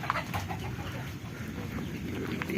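A lone hen clucks softly at a distance over a steady outdoor background hiss, with a few brief, faint cackles spread through the short stretch.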